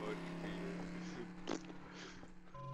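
A motorboat engine drones in Garry's Mod, a steady, close, humming motor tone with a brief louder surge midway, while people talk over it.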